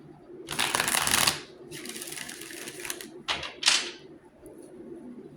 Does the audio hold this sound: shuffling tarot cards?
yes